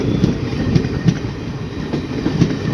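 A Pilibhit–Bareilly City passenger train rolls past close by, a loud steady rumble broken by rhythmic wheel clicks on the rail joints.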